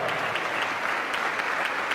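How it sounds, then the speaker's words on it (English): A crowd applauds steadily, a dense patter of clapping hands that holds at an even level throughout. "Give him a round of applause."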